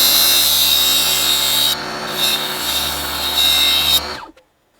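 A mini table saw spins with a kitchen knife pressed against its blade to sharpen it, giving a loud whirring grind that dips, swells again, then stops and winds down to silence.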